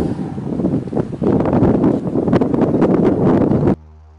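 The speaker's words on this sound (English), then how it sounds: "it's super windy" Strong wind roars and buffets the microphone in loud, gusty rumbles, then cuts off abruptly near the end.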